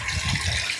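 Water gushes into a pressure cooker holding toor dal and turmeric, a loud, close, continuous pour with no talking.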